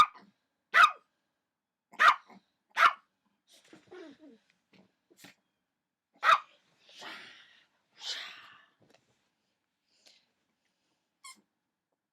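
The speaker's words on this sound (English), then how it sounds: "But the little devil wouldn't stop barking." A small dog barks repeatedly in short sharp bursts, some yips and squeaky vocalizations in between, fairly close with quiet gaps.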